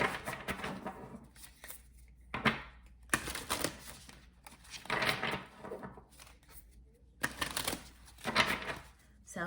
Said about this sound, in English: These cards are so big, I have to like mentally prepare myself when I'm shuffling them.